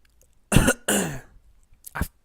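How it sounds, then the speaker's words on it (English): A few harsh coughs close to the mic: two quick bursts, a pause, then one more short cough. "Every time I do a fucking video, I end up coughing somehow"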